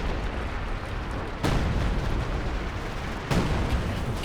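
Artillery shells exploding during a 2v2 Company of Heroes 2 battle: two heavy, sudden blasts land about two seconds apart over a continuous rumbling din of distant combat, with no talking.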